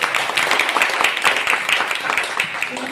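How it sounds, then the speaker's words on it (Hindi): An audience at an RCM business plan seminar applauds steadily, a dense wash of clapping that holds for the whole stretch at moderate loudness. "एक बार दोनों आदमी के लिए जबरदस्त ताली।"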